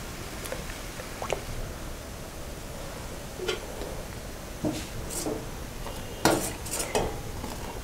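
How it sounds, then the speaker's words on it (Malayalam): A spoon stirs boiling cardamom tea with milk and tea leaves in a pot, sounding as scattered metallic clinks and scrapes against the vessel over a soft steady bubbling hiss. "തേയില ചേർത്ത ശേഷം നന്നായി ഇളക്കി കൊടുക്കുക"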